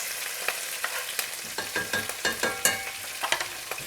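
Chopped onion sizzling in a pan for tadka dal, a constant crackling fry broken by repeated sharp scrapes and clicks of stirring.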